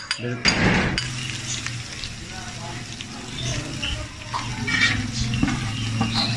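Tomato mash with garlic and ginger paste frying in hot ghee for an ojhri (tripe) dish, a steady sizzle with spoon stirring and pan scrapes, while people talk over it.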